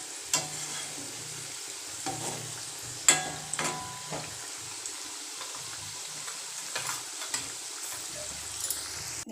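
Mudki snacks fry in hot oil with a steady quiet sizzle, and a few sharper clinks and stirring knocks come through at irregular intervals, with no voices.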